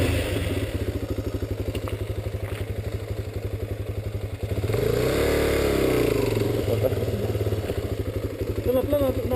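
A motorcycle engine idles with a fast steady thumping beat, then swells as the throttle is opened before settling back, close and loud, with faint voices underneath.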